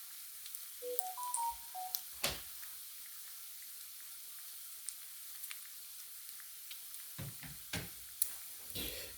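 Bacon fries in a pan with a faint, steady crackling sizzle, preceded by a short run of electronic beeps and punctuated by a few soft knocks.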